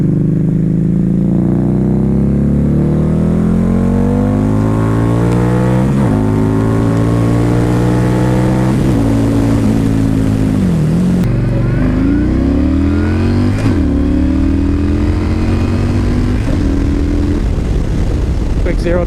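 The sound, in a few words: Harley V-Rod and Yamaha Stryker motorcycles accelerating 0-60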